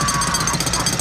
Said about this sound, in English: getting a jackhammer, which by the sounds of it,